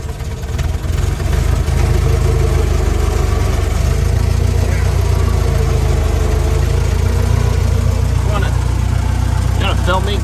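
A Model T Ford's engine runs loud and close with a steady low chugging throughout, a few brief clicks and knocks near the end.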